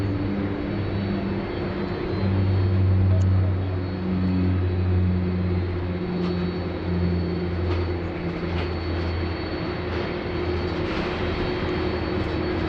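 A passenger aircraft rolls on the tarmac at Sydney Airport, its engines giving a steady, loud low rumble and whine that holds throughout with no talk over it.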